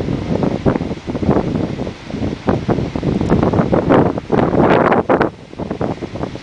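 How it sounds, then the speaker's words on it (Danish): Strong wind buffets the microphone on a hilltop paragliding launch site 350 metres above Alcudia, Mallorca, in loud, gusting roars that swell and ease with no talk. "Det blæser lidt rigeligt"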